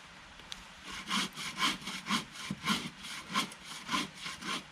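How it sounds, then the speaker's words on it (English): A hand saw cuts through dead wood during bushcraft bucking, with about eight rhythmic back-and-forth strokes, each a close, raspy rasp at a steady pace. "So a little bit more cutting"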